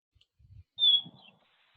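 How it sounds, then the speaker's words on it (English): A single bird gives one short, clear high chirp, fairly close against near silence, with a few faint low thumps before and after. "I hear bird sounds"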